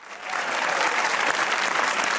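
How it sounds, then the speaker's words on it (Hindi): Studio audience applause on a Pakistani comedy talk show, a dense, steady wash of clapping that swells in quickly and holds loud and even throughout. "तालियां बजाइए।"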